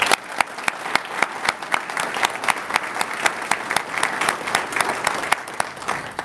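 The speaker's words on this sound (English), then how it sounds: "Audience, let's give our honor guard a round of applause for being here today." At a detention academy graduation ceremony, the audience applauds the honor guard with steady, crisp clapping that rolls on evenly for several seconds and fills the hall.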